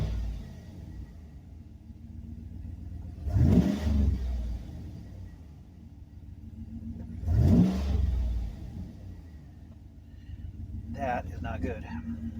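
A Chevy engine with a 4L60E/700R4 transmission idles and revs sharply twice as the throttle is blipped, each rev a loud swell that falls back to idle, with faint talk near the end.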